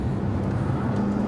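A Bentley Continental Supersports with a 620-horsepower engine and all-wheel drive lapping the Nurburgring, its engine a steady low drone heard from inside the cabin, continuous and moderately loud with no talk.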